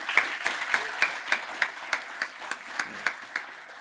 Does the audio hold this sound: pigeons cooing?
no